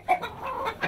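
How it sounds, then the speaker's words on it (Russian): Chickens and roosters cluck on a farmyard with about a thousand hens and twenty roosters, several short clucks and grunting calls in close, busy succession. "На 1000 голов куриц у нее сразу 20 петухов."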